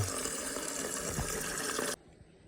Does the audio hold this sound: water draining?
yes